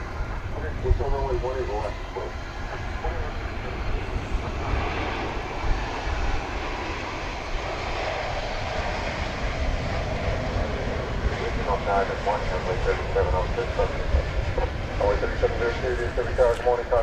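A passenger airplane arriving from New Zealand at DFW Airport produces a steady, broad engine roar lasting throughout, with people talking over it.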